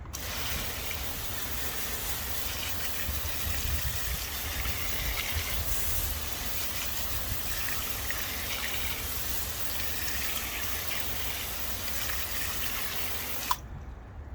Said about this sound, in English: Spray it on there, then rinse it off and watch how the water beads up.